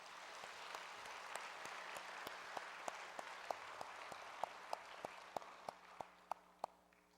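A church congregation at a Good Friday night prayer service claps in thanks, a broad wash of applause that grows into distinct, sharper individual claps toward the end.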